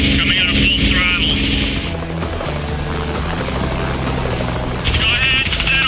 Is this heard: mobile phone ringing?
no